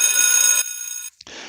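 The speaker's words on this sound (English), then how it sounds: "just that quick, a bell would come in." A bell sound effect tapped in the Spreaker app rings out loud and bright, a sustained metallic ring that cuts off abruptly, then a short tap and a fainter tone follow.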